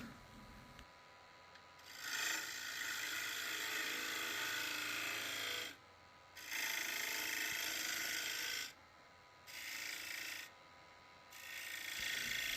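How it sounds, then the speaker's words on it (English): A bowl gouge scraping and cutting into the side grain of wood while carving a birdhouse, in repeated long rasping strokes with short quiet pauses between passes, close up and without talk. "You'll see me go back and forth with this bowl gouge here"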